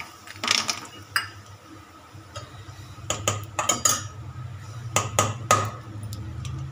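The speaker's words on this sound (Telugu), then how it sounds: "ఇంకా మనం ఇందులో పల్లీలు అయితే వేసుకోవాలి" Peanuts tipped into hot oil in a kadai, a series of close metallic clinks and rattles of spoon and pan in bursts over a low background hum.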